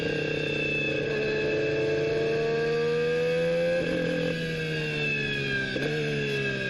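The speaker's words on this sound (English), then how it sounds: "Just having a listen to the Honda" Honda Formula 1 power unit on track at the Australian Grand Prix practice session, a loud continuous engine drone with steady harmonic pitch that shifts and dips in places, heard close and alone without talk.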